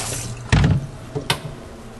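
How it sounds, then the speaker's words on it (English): Short splashy bursts of running water hit a clean colander being rinsed under a tap, close by, with two brief gushes and quiet in between. "So I have a clean colander right here. That's a good idea. I'll just rinse it out."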